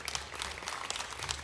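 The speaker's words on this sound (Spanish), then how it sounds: "El aplauso para Relax y para Banton" Audience applause at a talk show, a dense, steady patter of many hands clapping throughout, moderately loud with faint voices underneath.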